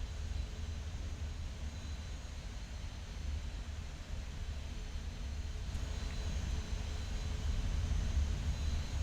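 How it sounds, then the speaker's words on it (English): Boeing 737-800 engines in the Prepar3D flight simulator, a continuous broadband jet roar that holds steady and swells slightly toward the end, with no talking. "Listen to the different engine sounds."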